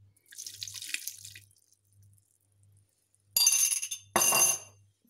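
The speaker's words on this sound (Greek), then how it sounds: "Τώρα θα προσθέσω το εβαπορέ μου και το ζεστό νερό με μία κουταλιά της σούπας καφέ που έχω λιώσει." Evaporated milk and hot water with dissolved coffee poured into eggless chocolate cake batter: a soft trickling pour at first, then two louder, splashy close-up pours into a bowl, with a faint low hum underneath.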